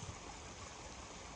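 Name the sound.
spring water trickling out of the ground on the Appalachian Trail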